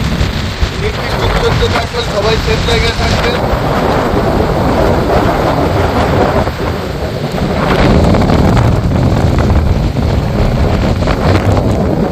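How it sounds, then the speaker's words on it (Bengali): Strong wind from Cyclone Remal roaring on the Bangladesh coast, buffeting the microphone with gusty rumbling and rain-like noise, continuous and loud. "আস্তে আস্তে বাতাসের পরিমাণ অনেক বাড়ছে"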